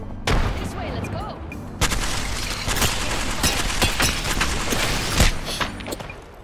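Grenade blasts and gunfire in the Apex Legends video game, a burst of sharp shots and booming explosions repeating through the stretch, loud and dense, with a player talking over the action.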